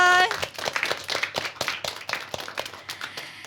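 Children at a primary school event clap their hands in a quick, uneven burst of claps that carries on over a few seconds, after a short tonal sound at the start, with no talk.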